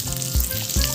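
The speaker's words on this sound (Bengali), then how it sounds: "একটু ভাজা হবে হালকাভাবে, তারপরে গুঁড়ো মশলাগুলো দিয়ে দেবো।" Whole spices fry lightly in hot oil for an amla pickle, giving a steady close sizzle broken by a couple of soft stirring scrapes.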